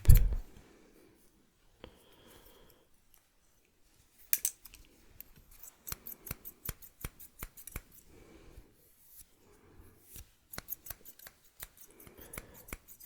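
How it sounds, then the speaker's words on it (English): Scissors snip in short clusters of crisp close cuts separated by quiet pauses, each burst a quick series of sharp metallic clicks. "Some snips, snip."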